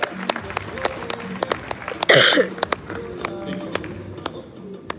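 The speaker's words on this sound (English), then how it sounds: "Give me a round of applause, please" Applause from a real estate conference audience, scattered sharp claps from a smallish crowd with a brief loud burst midway, under light murmuring and background voices.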